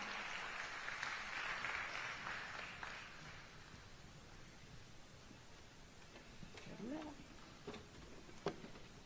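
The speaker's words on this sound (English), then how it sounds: "So give her a round of applause once again," Applause at a One Love Jamaica public event, a diffuse patter of many hands heard from a distance that is strongest early and then thins out, with a few faint voices and scattered noises over it.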